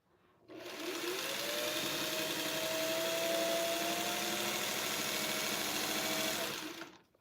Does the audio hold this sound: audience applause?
no